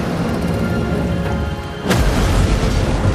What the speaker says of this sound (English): when this huge ship capsized, a monstrous explosion erupted